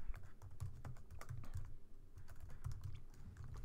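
Computer keyboard typing while writing Java code, a quick, steady run of close, light key clicks with small pauses, alone without talk.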